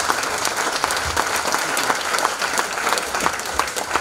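An audience bursts into sustained, dense applause at a sports performance centre event in La Rochelle, many hands clapping together evenly throughout with no voices over it.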